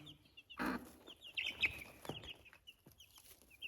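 A hen with her chicks in a straw-bedded henhouse, giving soft close clucks mixed with repeated high peeping from the chicks, fairly quiet with short pauses and no voices.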